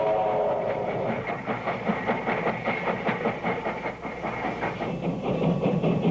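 An 1890 steam locomotive with six driving wheels running along the track, a dense steady rumble with rhythmic chuffing and clatter of wheels, loud and continuous throughout.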